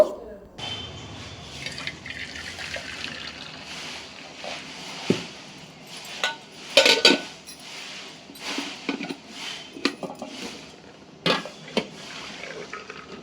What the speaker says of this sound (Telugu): అన్నాన్ని అయితే ఇంకా నేను వార్చేస్తున్నాను